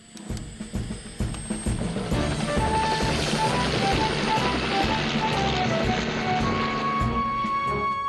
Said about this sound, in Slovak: To znie ako Tomov vrtuľník.